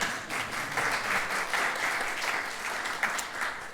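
A church congregation breaks into sustained applause during a Sunday service, a full, even roar of clapping hands with no words spoken over it.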